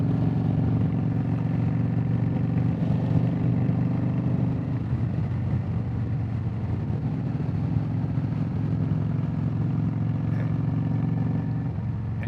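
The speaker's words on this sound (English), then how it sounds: "if you hear me revving this bike out" A Yamaha V Star motorcycle runs under a rider with a continuous low engine drone, its pitch and load shifting around the midpoint as the throttle changes, close and steady throughout.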